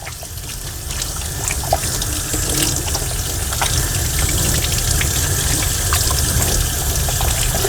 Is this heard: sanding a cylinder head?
no